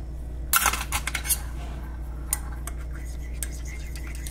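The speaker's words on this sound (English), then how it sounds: "stir this little bit" A spoon stirs Tim Hortons dark roast iced coffee, with a few bright clinks and taps against the container near the start, then quieter scattered knocks over a low steady hum.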